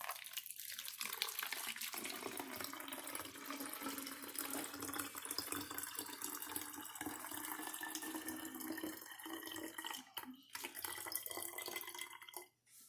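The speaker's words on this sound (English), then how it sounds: "we're going to pour our green water into the bottle." Green-coloured water pours steadily into a bottle at a science-experiment table, a continuous splashing trickle that runs for most of the stretch and breaks off briefly near the end, with no talking over it.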